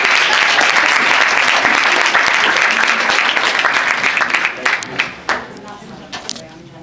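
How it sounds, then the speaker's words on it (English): Sustained audience applause, loud and dense, gradually thinning into scattered claps toward the end. "Give her a round of applause."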